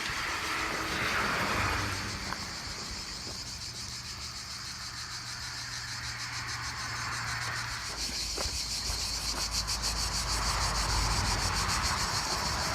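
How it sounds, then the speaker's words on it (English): Crickets chirp outdoors along a Camino walking route, a steady high-pitched pulsing trill that runs throughout beneath a broad wash of passing traffic noise, with no talking. "You hear the crickets."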